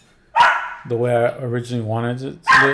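A dog barking and yipping nearby, with sharp barks at the start and end and whiny tonal vocalizing between them, loud and close, mixed with a person talking.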